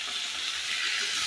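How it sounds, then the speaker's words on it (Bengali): A pan of rohu fish curry with papaya and vegetables gives off a steady, close sizzling hiss with a soft bubbling undertone as it is stirred. "নাড়াচাড়া দিয়ে রেখে দিই, দেখুন আপনারা।"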